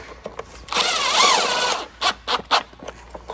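A power drill whines steadily as it drives self-tapping screws into real molded carbon fiber side skirts on a Tesla Model Y, one long run followed by several short bursts, close and loud.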